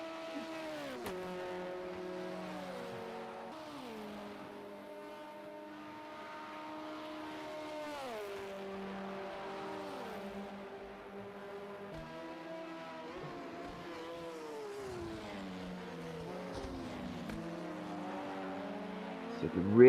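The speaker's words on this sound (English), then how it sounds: "So you can really hear the engines crumble there" LMP2 prototype race cars in a racing video game at Hockenheim, several engines droning and whining together, pitch repeatedly dropping as they brake and downshift for corners, then climbing again, heard at moderate level under commentary.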